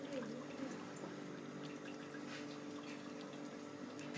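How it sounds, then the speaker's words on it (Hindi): Water poured into a pan of aloo methi (potatoes and fenugreek) during home cooking, a steady close liquid pour with a soft hiss lasting the whole stretch, no talking. "1 कप पानी का डालकर इसको अच्छे तरीके से मिक्स करेंगे"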